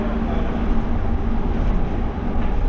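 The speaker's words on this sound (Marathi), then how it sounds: "लईच पळती मेट्रो मित्रांनो." A metro train runs fast, heard from inside the carriage as a loud, steady rumble and roar with no voices.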